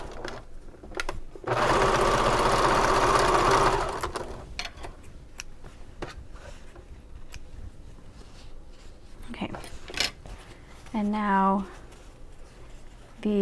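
A sewing machine top stitches a bag seam in one loud sustained burst of whirring, followed by quieter handling noises and a voice speaking nearby.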